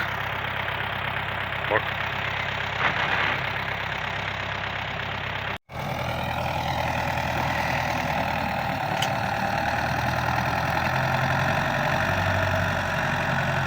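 A tractor engine idling and then setting off in a field of corn, a loud, steady low diesel drone recorded close, continuing evenly after a brief cut.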